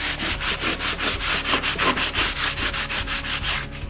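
Bon Ami cleanser is scrubbed against a stain on a kitchen stove, a close, rhythmic back-and-forth rubbing repeated about sixteen times at a steady quick pace, with no talking.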